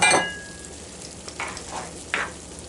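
Italian sausage with creamy ranch noodles sizzling in a pan, a steady close crackle with a few louder pops and scrapes of stirring breaking through.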